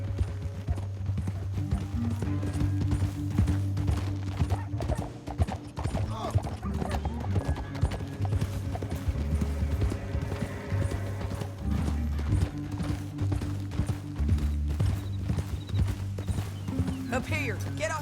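Horses gallop and clip-clop in Red Dead Redemption 2, a steady hoofbeat rhythm running throughout beneath a low musical drone and voices talking.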